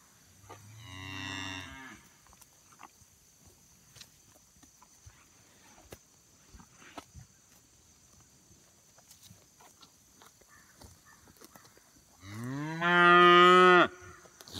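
Cattle in a pasture moo twice at evening, one long low call at the start and a louder, closer call near the end. Near-silence with faint ticks fills the gap between them.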